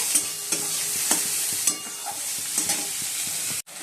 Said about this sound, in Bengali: অল্প করে পেঁয়াজ ভেজে নেবো